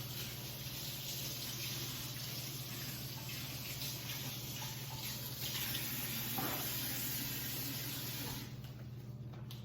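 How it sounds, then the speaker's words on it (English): Hands rinsed under a running kitchen tap, a steady close rush of water with shifting splashes as the hands move through the stream, a constant low hum underneath, and the flow easing near the end. "So let me just rinse my hands off."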